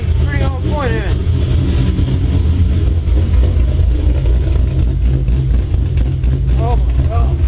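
A tuned 2010 Chevrolet Camaro SS V8 runs loud and close with a deep, rumbling idle and brief revs, while people talk over it.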